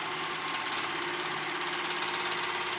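A sewing machine stitching active shorts, a fast continuous whirring motor hum that runs steadily at close range without pause.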